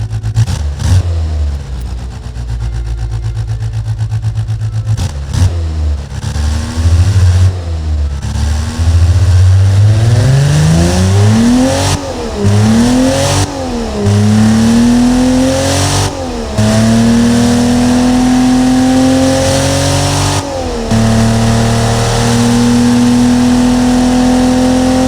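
Simulated 1974 Ford 300ci inline-six in the Automation game, revving repeatedly from a low rumble up through rising and falling sweeps before settling into a steady higher-pitched drone, loud and close with no voices.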